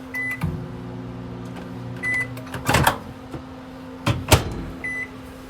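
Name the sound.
microwave oven running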